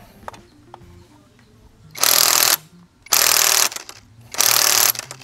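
Three loud bursts of an impact wrench hammering at a tight sprocket nut on a Kawasaki ZX-4RR motorcycle, each about half a second long, separated by short pauses with faint clinks between.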